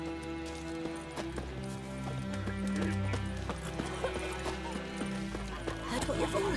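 Geralt's horse Roach in The Witcher 3 video game, hooves clip-clopping in a steady rhythm with a whinny, close and clear beneath a man's spoken line and background music.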